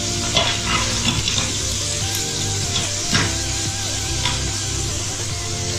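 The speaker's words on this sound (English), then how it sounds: "So into the pan of the jeera, I'm going to add in the dried chilies" Dried chilies and jeera sizzle loudly in a pan, a steady frying hiss with scattered light stirring knocks and crackles throughout.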